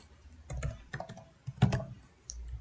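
A computer keyboard types out a short code term in a few soft, separate clusters of clicks, quiet and close, with pauses between them and no talking.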